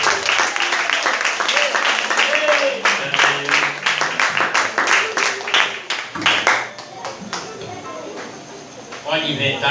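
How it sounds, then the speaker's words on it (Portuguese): Congregation applauding during a Portuguese-language deliverance church service, loud brisk clapping with sharp individual claps over a crowd wash, tapering then resuming, with voices talking and shouting beneath. "Aplauda ele."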